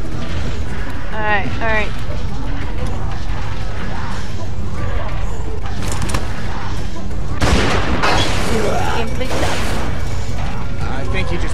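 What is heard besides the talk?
gunfire in The Walking Dead 400 Days video game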